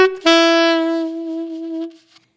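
The B section of a song played on a single sustained melodic instrument: one long steady tone after a brief opening note, rich in overtones, held loud and close before fading out near the end.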